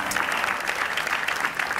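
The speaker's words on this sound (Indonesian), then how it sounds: "Tepuk tangan dong buat" A talk show studio audience claps for a guest, a dense, even wash of applause that stays steady and fairly loud for the whole stretch.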